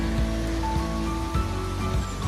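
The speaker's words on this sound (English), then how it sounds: "So from here actually you could hear the sound of the waterfalls." The Mallyan Spout waterfall rushes in a steady, dense roar of falling water, loud and continuous throughout with no voices.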